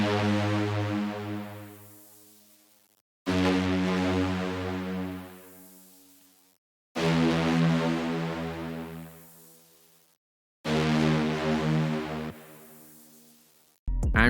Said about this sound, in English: Then I use this distorted bass,